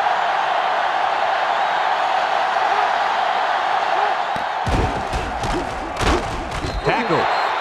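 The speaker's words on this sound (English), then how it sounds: "this crowd is going absolutely insane" Stadium crowd in NCAA Football 2005 during a Georgia Tech vs Georgia game, a steady dense roar filling the whole clip, with sharper cheers and whoops breaking out over it in the final seconds.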